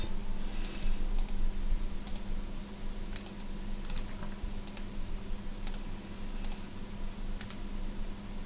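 Typing on a computer keyboard while building a CV report in Power BI: a steady run of light key clicks at irregular intervals, close but fairly quiet, over a faint constant hum.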